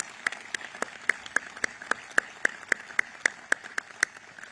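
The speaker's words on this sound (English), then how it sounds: "A round of applause for these two awesome young men." At a military change-of-command ceremony for US Southern Command, crisp claps ring out close by in a steady, evenly spaced rhythm, about three or four per second, over a soft background.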